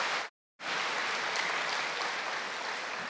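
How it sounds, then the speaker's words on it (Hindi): A spiritual gathering audience gives a loud round of applause, dense continuous clapping from many hands after a brief silent gap at the start. "तो अपने लिए एक बार जोरदार तालियां बजाएं"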